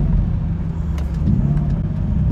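A BMW E30 fitted with a V8 idles steadily close by, a deep continuous rumble with low throbbing and no revving, heard alone without voices.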